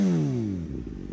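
A Suzuki GSX 1000 sport motorcycle engine winds down from a loud rev, its pitch falling steadily before settling into a rough, lumpy idle close by.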